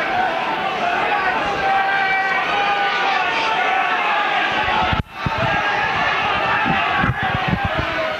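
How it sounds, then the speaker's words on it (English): A stadium crowd at a 1988–89 rugby league championship match between St. Helens and Featherstone Rovers cheers, chants and roars in a dense, continuous wash of noise, with a commentator's voice over it. "the crowd's really trying to rise this St. Helens team"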